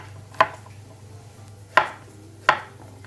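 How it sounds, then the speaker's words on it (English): Knife cutting zucchini into thick slices on a board, three sharp, close chops spaced about a second apart, with quiet background between them. "Now I'm gonna take my zucchini, just cut them"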